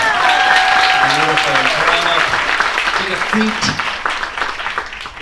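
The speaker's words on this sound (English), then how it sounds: "Give her a hand, everybody" A cruise ship cabaret audience breaks into sustained applause, a dense wash of clapping that fades slightly toward the end, while a host talks over it.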